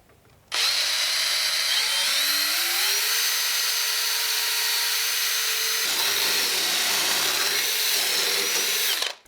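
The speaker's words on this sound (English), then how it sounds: "Alright, so with the drilling done" A power drill bores through metal while fitting rearsets to a Yamaha XV 750 motorcycle: a loud, continuous high whine whose pitch climbs and then shifts as the bit cuts, running steadily for about nine seconds with no talking.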